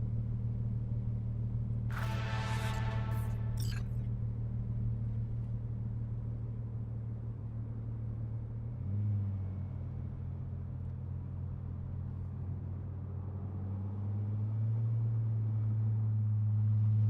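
A car driving through Night City in Cyberpunk 2077, a low, steady engine rumble with a shift in pitch midway and a brief brighter burst near the start, fairly faint and with no voices.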